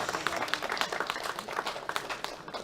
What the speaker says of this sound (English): Once more, a big round of applause for our finalists.